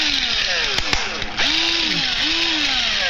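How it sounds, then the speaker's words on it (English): A battery-powered drill bores into the side of a soda can: a loud whirring motor with rising and falling pitch sweeps as the speed changes, and the bit stutters briefly against the metal. "first thing you gotta do is put the can on its side and drill a"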